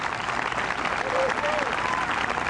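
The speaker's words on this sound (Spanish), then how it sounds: "¿Cuántos dan un aplauso al Dios de la palabra por eso?" A crowd at an outdoor preaching event in a park applauds, dense, loud sustained clapping with a preacher's voice faintly carrying over the top.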